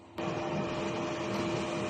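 DTF printer in a print shop starting up abruptly and running with a steady, loud mechanical whir and hum, alone with no voices.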